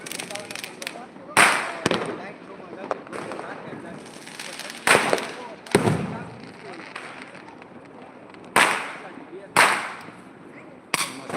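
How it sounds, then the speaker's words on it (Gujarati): Firecrackers set off by children, youths and elders burst in a series of sharp, loud bangs, about half a dozen spaced over several seconds, with lower crackling and background noise between. "નાના બાળકો યુવાનો અને ઘટપણના વડીલો સુધી પણ ફટાકડા ફોડે છે"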